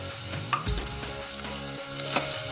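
Finely chopped onions sautéing in oil for a simple sambar, a steady sizzle with scraping stirs and small spatter pops throughout, no talk.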